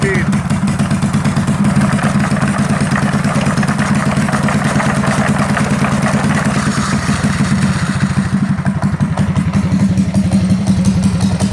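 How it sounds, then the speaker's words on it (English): An AutoWalker step-cheating device for Pokémon Go vibrating loudly and continuously with a rapid mechanical buzz and rattle, a voice talking over it. "It's counting steps just by the vibration. Let's put some more speed."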